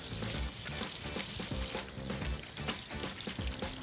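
Hands being washed under a running faucet before handling a turkey, a steady hiss and splash of flowing water with light rubbing, faint and continuous.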